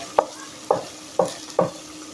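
Minced meat (keema) fried in oil in a pan for keema matar, four sharp scraping stirs at an even pace, each trailing a short sizzle, close and fairly loud.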